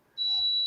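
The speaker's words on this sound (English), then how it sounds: "I gotta figure out what this beep is." A single steady high-pitched electronic beep like a smoke alarm chirp starts after a short quiet moment and holds on at close range, fairly loud and alone.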